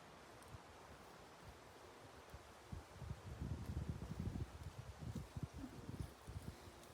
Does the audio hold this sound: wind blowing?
yes